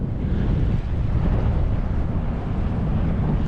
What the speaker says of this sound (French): Là, on a un bon vent qui s'est levé.